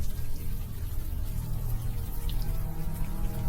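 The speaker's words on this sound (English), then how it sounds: "Now that it's out of the open air, the warm rain is coming down." Steady rain pours down in the video game Unavowed, a dense, even hiss that runs unbroken and fairly loud throughout.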